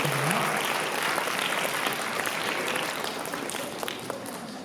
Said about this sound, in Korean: 네, 박수하겠습니다.